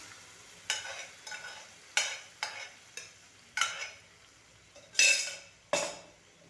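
A spoon stirs rajma beans in a cooking pot, making a series of about nine scraping, clattering strokes at an uneven pace over a soft background sizzle.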